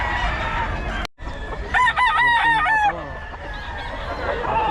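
A gamefowl rooster at a sale crows once, loud and close, a drawn-out cock-a-doodle-doo following a brief clucking moment, over background chatter and crowd noise.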